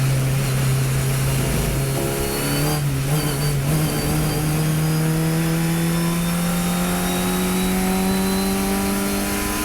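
A Fun Cup race car engine, mounted behind the driver in a Beetle-bodied car, drones loudly and steadily at Oulton Park, its pitch climbing slowly as it revs up, with a brief dip near the start.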